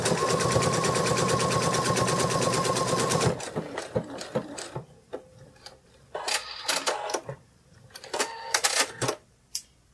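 A sewing machine stitches plush pattern pieces with right sides together, a fast close rattling run that stops abruptly, followed by scattered clicks and handling knocks.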